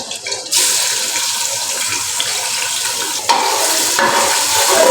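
Ginger garlic paste hits hot oil in a pot for a beef qorma, giving a loud, steady sizzle that stays close and swells briefly as it is stirred, with no talking.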